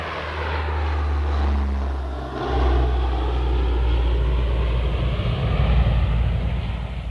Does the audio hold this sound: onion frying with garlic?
no